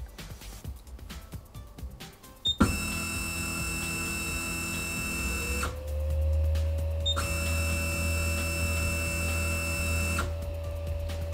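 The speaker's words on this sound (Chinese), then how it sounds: "而这台 3D 打印机 Z 轴是双电机，所以我就只把 X 轴 Y 轴的驱动给换了，但是 Z 轴的还没有换。 我们一起来听一下这个 Z 轴的噪声。" Dual Z-axis stepper motors of an Anycubic Mega X 3D printer on stock drivers, a loud tonal whine and hum that starts abruptly, pauses, then resumes with a rising pitch.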